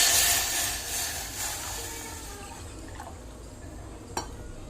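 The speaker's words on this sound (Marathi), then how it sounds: "ते ताक मी आता या फोडणीत टाकते." Buttermilk mixed with gram flour poured into a hot tempering for kadhi, a liquid rush and hiss that is loudest at first and tapers into quieter bubbling, with a small clink near the end.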